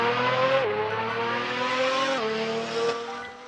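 A Pagani Imola engine in the Roblox game revs hard under throttle, a loud continuous whine climbing in pitch with two quick drops at gear shifts, close and alone.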